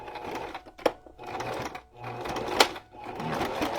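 A home sewing machine stitches in short runs, a steady mechanical whir that stops and starts, close by, with a couple of sharp clicks between the runs.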